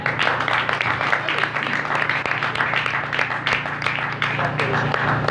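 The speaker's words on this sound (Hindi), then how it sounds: "मुकद्दस एलीशा एलिया के लिए एक बार जोरदार तालियां" A church congregation claps loudly during a sermon on the prophets Elijah and Elisha, a thick continuous roar of applause with voices blended underneath.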